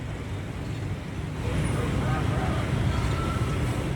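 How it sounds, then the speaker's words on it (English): Steady rumble of street traffic in Hanoi, Vietnam, with engine noise throughout, a continuous roar with no clear breaks. "There's this constant background noise of engines and beeps and horns"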